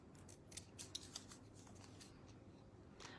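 Scissors snip through craft paper in a quick run of crisp, close cuts, several sharp clicks bunched together and then a final snip, faint and isolated with no talking.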